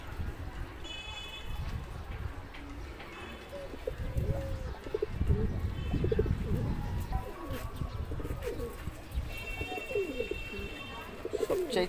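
Pankhi army red patti pigeons coo in a loft, soft repeated throaty calls mixed with scattered chirps and rustling, moderately close and steady over the whole stretch.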